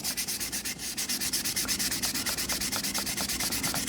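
Sandpaper rubbed by hand across a vintage Telstar phone's casing in fast, even back-and-forth strokes, close up and steady with a regular scratching rhythm.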